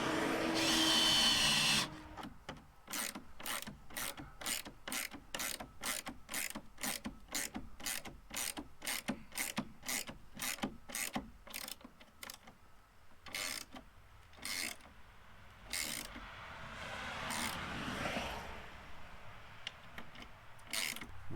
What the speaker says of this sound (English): I'm just going to go ahead and run these three bolts in.